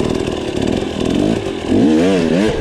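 A dirt bike engine buzzes at high revs, then the throttle is snapped open hard as the bike hops a log, the pitch climbing and wavering loudly up close.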